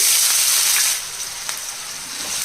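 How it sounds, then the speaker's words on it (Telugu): Bay leaf and finely chopped onions frying in hot oil, a loud, continuous close hiss of sizzling that eases a little partway through, with a faint scrape of stirring. "ఇదిగోండి ఆయిల్ వేడైంది ఒక బిర్యానీ ఆకు తీసుకుని అది సగం తుంచేసి వేసుకోవాలి రెండు ఉల్లిపాయలు ఇలాగే సన్నగా చిన్నగా కట్ చేసి వేయాలండి"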